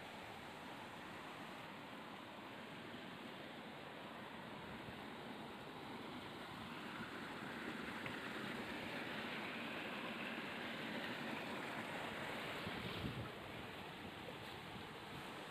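Water flows steadily at an irrigation channel junction near rice fields, splitting toward a river and the paddies. It makes a continuous, fairly faint rushing wash that swells slightly midway.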